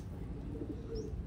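A Taiwan racing pigeon cock gives a faint, low cooing, soft and somewhat distant over a steady background hum.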